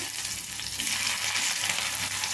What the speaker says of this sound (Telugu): ఉల్లిపాయ బాగా వేగాలి.